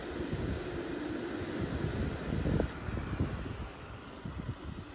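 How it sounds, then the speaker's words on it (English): Blustery wind buffeting a microphone on Seathwaite Fell, a low rumbling gusting roar that rises and falls in uneven surges over several seconds. "Little tiny blustery wind"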